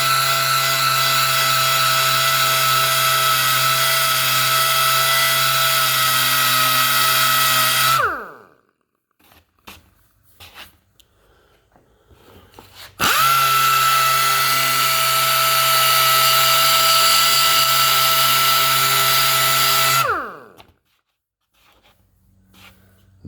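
Power buffer polishing 3000-grit-sanded paint on a Ford Model A roadster, two long steady high-pitched whining runs of about eight seconds each, each winding down, with near-quiet handling noise in between.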